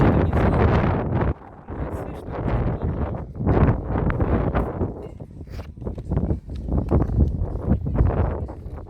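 Strong wind off the sea at Novofedorovka, Crimea buffets the microphone in loud, rumbling gusts and roars that swell and drop, while someone talks intermittently beneath the blustery noise.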